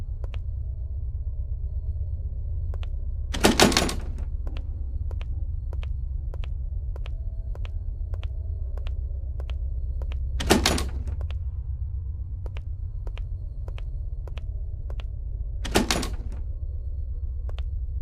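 A locked door is tried in a video game set in an asylum, three heavy rattling thunks spaced several seconds apart over a steady low hum and faint regular ticks.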